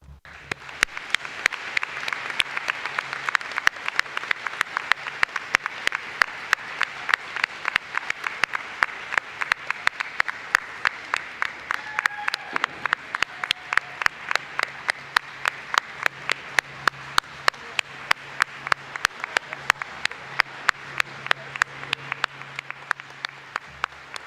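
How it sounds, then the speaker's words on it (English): Sustained audience applause fills a nursing pinning ceremony hall, a dense steady clapping that carries on for over twenty seconds with no talk over it. "I just want to give you a good round of applause"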